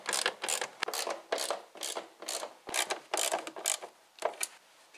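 Screws are turned underneath a Fiat/Ford 1.2 litre engine bay during timing belt work, heard as quiet, close, repeated ratcheting and scraping clicks in short uneven bursts.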